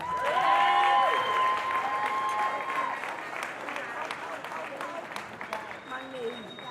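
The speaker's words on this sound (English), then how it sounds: "Can you guys give her a round of applause?" Enthusiastic applause from a crowd, loudest at first then thinning out, with cheering and a voice speaking over the clapping.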